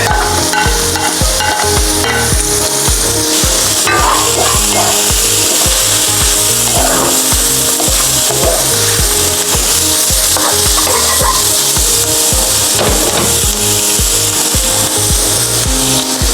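Garlic sizzles loudly in a hot oiled pan with rendered pork fat for a pork menudo, with constant crackling frying noise and repeated scraping and stirring strokes of a utensil, close up and without talk.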